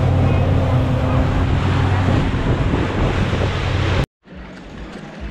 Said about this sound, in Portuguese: E a gente está chegando agora nessa praia.